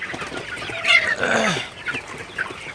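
Sonali super hybrid chickens cluck close by while eating broken maize, a few short squawks and murmurs rising and falling over a soft background hiss.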